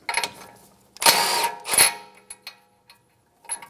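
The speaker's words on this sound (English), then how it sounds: "Using a 19 millimeter socket, remove the tie rod nut." A 19 mm socket ratchet works the outer tie rod nut on a 2013-2017 Honda Accord, giving close, short metallic clicking and ratcheting bursts, two longer runs in the middle and a few brief clicks before and after, with no talk.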